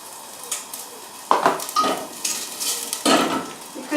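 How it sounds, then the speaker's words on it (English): Beef pieces brown in a saucepan with a soft sizzle under irregular metallic clinks and scrapes as a utensil turns the meat against the pan. "You want each piece to get browned all over."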